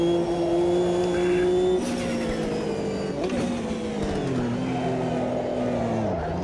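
A GTO race car in Automobilista 2 revs hard with a big engine note, its pitch climbing and dropping through gear changes as it runs near and loud, with a brief burst of tire noise.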